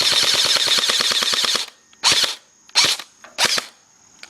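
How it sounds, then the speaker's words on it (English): An airsoft M16 rated around 320 FPS fires a rapid full-auto burst of about a dozen sharp snapping shots, then three shorter separate bursts with brief pauses between, loud and close. "I am shooting, it's just that the gun's so fast that I can't see it."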